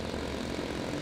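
A German World War II propeller plane engine drones steadily in the RealFlight simulator game, a continuous even buzzing hum with no talk over it.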